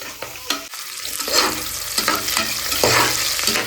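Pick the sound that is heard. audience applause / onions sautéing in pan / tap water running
onions sautéing in pan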